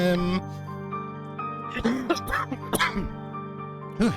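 A person gives a few short coughs and throat clears, close and clear, between stretches of voiced humming-like sound.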